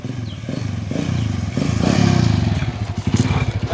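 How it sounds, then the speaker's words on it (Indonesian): A motorcycle engine runs close by, idling with a rough, rhythmic putter that swells and rises in the middle, with some clatter and scraping mixed in. "Mati dulu motor."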